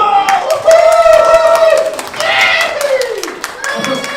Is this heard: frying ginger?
no